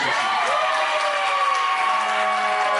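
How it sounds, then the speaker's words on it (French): Wedding guests applaud during an official French-language union ceremony, a continuous, even roar of clapping and crowd noise with some sustained tonal sound running underneath, steady for about three seconds. "Applaudissez, mesdames et messieurs"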